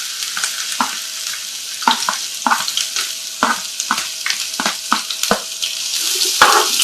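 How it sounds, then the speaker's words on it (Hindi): Sliced onions frying in hot oil in a pan while being stirred with a serving spoon, a loud close sizzle broken by frequent scraping clicks of the spoon against the pan. "प्याज को हमने ब्राउन करना है, गोल्डन कलर का करना है।"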